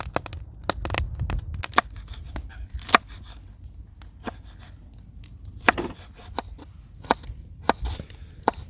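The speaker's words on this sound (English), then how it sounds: "So starting off, we're just chopping some veg." Knife chops peppers and exotic mushrooms on a board beside a lakeside campfire, a series of sharp, irregular close thuds and crunches over low background rumble.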